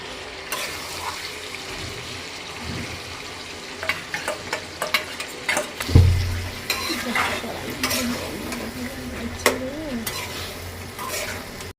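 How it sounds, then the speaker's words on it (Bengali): Stirring and sizzling as nut paste goes into kadai chicken frying in a pan, with scraping spoon strokes, clinks and a louder splat-like thump midway, close and without talk. "এখানে অ্যাড করে নেব এই যে বাদাম পেস্ট করে রাখা।"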